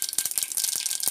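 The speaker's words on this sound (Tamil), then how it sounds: "இப்போ வந்து எண்ணெய் சூடாச்சு, கடுகு போட்டுக்கலாம்." Mustard seeds crackle and spatter in hot oil in a stovetop pan, tempering for a papaya kootu, a dense, continuous sizzling with sharp pops scattered throughout.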